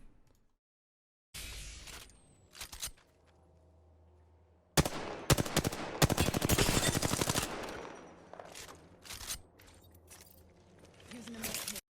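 Automatic weapon fire from an Apex Legends match rattles out in rapid bursts, with a long sustained volley mid-stretch and scattered shorter shots around it, over quieter game ambience and footsteps.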